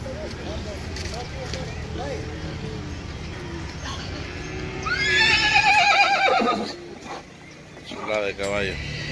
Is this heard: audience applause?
no